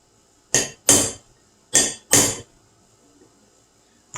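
Four sharp hammer blows in two quick pairs drive a nylon center sleeve into an Arctic Cat hex clutch, each strike ringing briefly and close up, followed by quiet.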